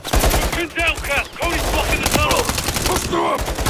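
Rapid bursts of suppressive gunfire from Call of Duty Modern Warfare 3 crackle loudly and continuously beneath shouted voices, with the shots running together as dense automatic fire.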